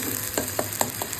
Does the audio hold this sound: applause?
no